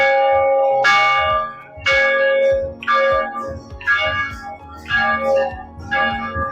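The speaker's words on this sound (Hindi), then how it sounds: "इधर इनको घंटे की ध्वनि दिखाइए।" Temple bells at Dashrath Mahal in Ayodhya clang repeatedly in a steady rhythm, about one strike per second, each bright metallic ring overlapping the last with low thumps beneath.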